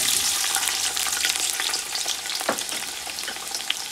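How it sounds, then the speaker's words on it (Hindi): Onions dropped into hot oil crackle and sizzle loudly and up close, a continuous bright frying hiss with small pops and a brief stir partway through. "तेल गरम हो गया है, अब हम प्याज डालते हैं।"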